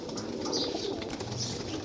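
Loft pigeons in Jhelum, part of a batch of about thirty, give soft repeated cooing close by over a continuous background hiss.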